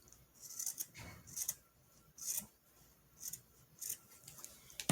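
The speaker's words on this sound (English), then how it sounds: "Okay, so I just cut a piece off like this." Fabric is cut with scissors in a series of quiet, crisp snips, about seven or eight of them spaced irregularly, close and faint.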